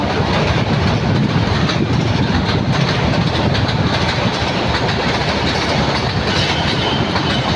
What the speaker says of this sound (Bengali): গ্রামে ট্রেন অনেক স্পিডে ট্রেন যাচ্ছে